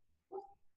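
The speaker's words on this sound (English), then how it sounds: "That's my dog, if you can hear her barking." A single short bark from a female dog, faint and somewhat distant against a quiet room, with no talking over it.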